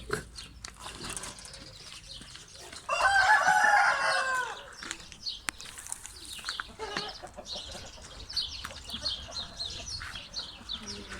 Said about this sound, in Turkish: Her tarafta kaliteli Hint horozu var.